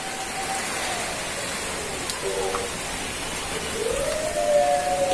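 Rain begins falling at a rural chicken farm, a steady broadband hiss of drops on surfaces that swells toward the end, with a faint siren-like tone rising and falling in the background.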